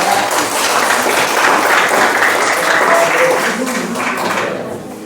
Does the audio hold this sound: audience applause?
yes